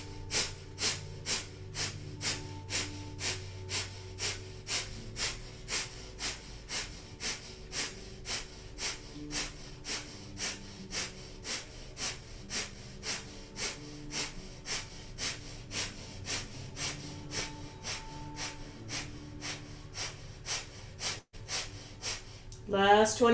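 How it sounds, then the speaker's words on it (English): Rapid, forceful rhythmic breathing through the nose, the Kundalini yoga breath of fire pumping the navel, sounds as a steady train of sharp close exhalations for over twenty seconds, ending with a louder breath; no speech. "And just going to come into breath of fire here."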